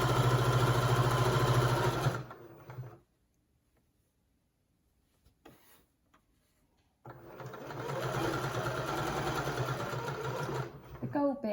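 A sewing machine runs in two bursts of steady mechanical whirring as it stitches over fabric with gold foil print, stopping for a quiet gap of several seconds before starting again, loud and close.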